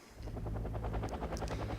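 An American Super Cobra attack helicopter in Wargame: Airland Battle, rotor blades chopping in a fast, even rhythm, steady and close for under two seconds.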